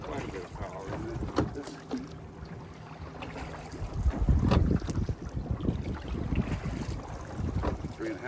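A sliding-seat rowing boat moves through water at around three knots, with irregular splashing and oar strokes under steady wind noise across the microphone.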